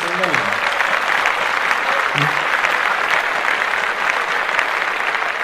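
An audience claps in a sustained, even burst of applause, with voices briefly talking over the clapping near the start.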